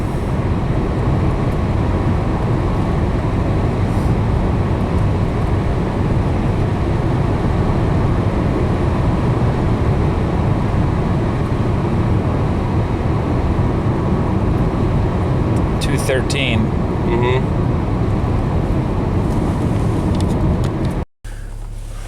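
A Nissan Maxima that is prone to overheating pulls in a high gear, with a loud, steady engine drone and road rumble filling the cabin throughout, plus a brief faint chirp near the end before a sudden short drop-out.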